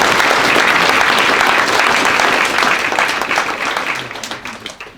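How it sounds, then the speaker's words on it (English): An audience applauds at a public library's 100-year anniversary ceremony: loud, dense, sustained clapping that thins and fades over the last second or two. "So give yourselves a round of applause for being here for the library."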